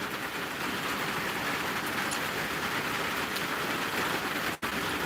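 Steady rain falls outdoors, a dense continuous hiss at moderate level with no voices, broken only by a brief dropout near the end.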